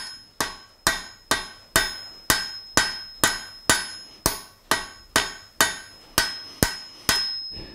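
Hot steel being forged to a taper under a hammer: about fifteen evenly spaced, ringing blows land close and loud, each strike decaying quickly before the next, with no talk.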